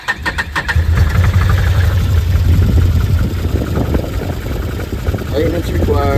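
A Can-Am Commander 800XT side-by-side engine starts and settles into a steady, close, low idle after fresh spark plugs, with a dash chime or beep near the end.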